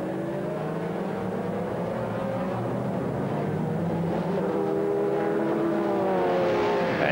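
Race cars at the 2001 European Le Mans Series round at Jarama, a steady, loud engine roar with shifting pitch as the prototypes pass in traffic, continuous throughout without clear breaks.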